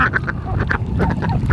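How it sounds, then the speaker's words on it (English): Homestead ducks quack in a quick run of short, nasal calls, close by and fairly loud, with outdoor farmyard noise behind them. "You see our ducks are doing great."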